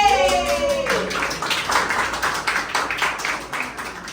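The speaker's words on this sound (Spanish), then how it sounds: "Bien, aplauso, ¿eh?" Brief clapping at a wood sculpture workshop: a short burst of hands from a small group rises after a tonal sound fades, then thins into scattered claps.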